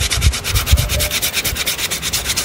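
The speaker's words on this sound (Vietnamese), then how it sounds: "Rồi mình làm mình chà nhám cho nó láng cái nám này, rất là cứng luôn ấy." Sandpaper rubs steadily over a hard lemon-tree wood slingshot fork, a close, loud, rhythmic scratching of quick back-and-forth strokes with no voices.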